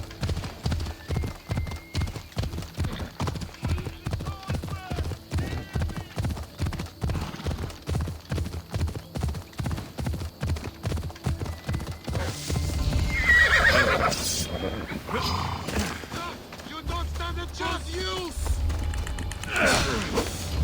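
A horse in the Assassin's Creed Odyssey video game trots with steady rhythmic hoof clip-clops, then neighs and snorts as the pace breaks up, with a player's voice talking over it.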